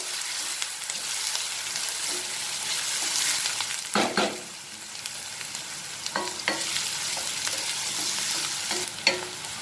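Onions frying on medium heat for Amritsari paneer bhurji give a steady close sizzle, broken by scraping stirs and a few sharp clacks of a spatula against the pan.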